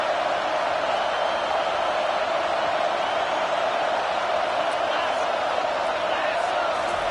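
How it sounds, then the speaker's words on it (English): A stadium crowd at a college football game roars in a steady, loud wash of cheering and noise that stays constant for the whole stretch, with no distinct pauses. "This crowd bringing the energy and noise early."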